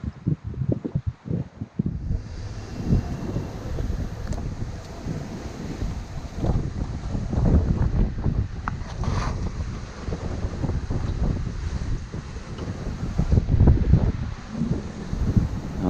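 Strong wind buffets the microphone aboard a sailboat under genoa alone, crossing from Madeira toward the Desertas Islands, with a constant roar of gusts and waves rushing along the hull, loud and unbroken with no talk.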